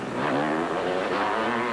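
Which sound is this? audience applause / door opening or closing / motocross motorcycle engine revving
motocross motorcycle engine revving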